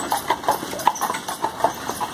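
Horse hooves clip-clop on a street on Mackinac Island, where horse-drawn carriages travel, in a close, regular rhythm of about a dozen sharp clops over a faint engine-like hum.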